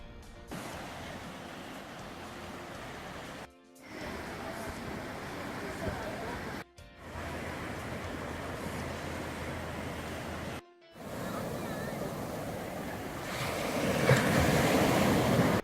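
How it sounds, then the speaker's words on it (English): Ocean waves roll in at Haeundae Beach in Busan, a steady broadband surf roar with wind buffeting the microphone, broken by a few abrupt cuts and swelling louder near the end. "Along the coast, we got to Haeundae Beach."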